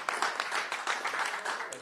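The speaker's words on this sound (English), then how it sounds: "Let's have a huge round of applause" A festival audience in Kyiv gives a panel a lively round of applause, dense close clapping mixed with a few cheers and voices throughout.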